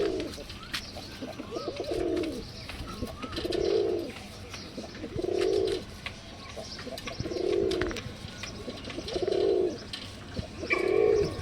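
Pigeons coo at a fancy pigeon fair in a steady repeating pattern, six soft rounded calls spaced about two seconds apart over a faint, noisy background.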